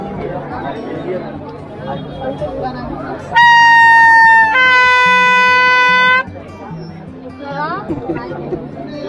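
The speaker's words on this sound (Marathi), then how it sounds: "गर्दी भरपूर आहे." A busy crowd chatters and murmurs at a village fair during a Dahikala festival, a dense hubbub broken in the middle by a loud, sustained horn blast lasting about three seconds.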